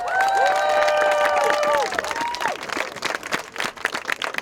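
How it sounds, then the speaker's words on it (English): Crowd at a pro-Palestine campus encampment at George Washington University bursts into applause and cheers, with a sustained shout over clapping at first, then thinning into scattered claps and voices. "so give yourself a round of applause."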